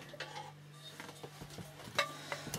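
Food being stirred and mixed in a frying pan while making a low-carb tuna bolognese with konjac noodles, with soft scraping and clinks of a utensil against the pan and a steady low hum under it.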